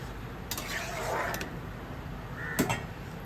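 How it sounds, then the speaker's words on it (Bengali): A spoon stirs fish head curry in a cooking pot, giving a few faint scrapes and light metallic clinks against the pot over a quiet background hiss. "একটু নাড়িয়ে দেই।"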